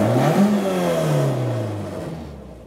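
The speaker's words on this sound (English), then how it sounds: "Some sort of Golf behind, giving it on his launch control rev limiter by the sounds of it." A VW Golf's engine revs hard on launch control, the pitch sweeping down as it bounces off the rev limiter, loud and close before fading away.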